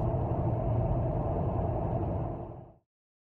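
Steady low rumble of a car driving on a foggy morning, heard from inside the cabin, loud and constant with no talk, then fading out abruptly at the end.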